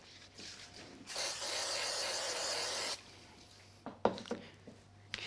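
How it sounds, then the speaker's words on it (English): A steady hiss of aerosol spray glue lasts about two seconds, followed by a few soft clicks and handling knocks nearby. "I'm going to add a bit of spray glue to the back of this"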